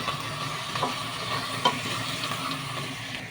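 Chicken and spices, including mixed spice and cumin, are stirred in a pan for an Arabic-style kushi spaghetti, giving a steady soft sizzle with several distinct scraping strokes, close and clear, with no voices.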